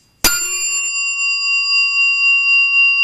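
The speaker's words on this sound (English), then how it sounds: "This is the bell from the employee elevator." A single bright elevator bell strike from an employee elevator's floor-passing chime, ringing on as a steady, sustained metallic tone with a sharp attack and long even sustain, heard alone.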